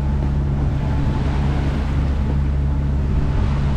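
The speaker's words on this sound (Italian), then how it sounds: "in questa navigazione, è tutto a motore" Sailboat motoring at sea under engine power, a steady low drone with constant hum and faint wind and water wash, continuous and unchanging throughout.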